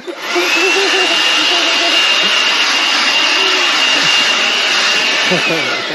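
A blower roars loudly and continuously at close range as it blows debris off a person on a tiny-house decking job, a steady whooshing blast with a faint whine.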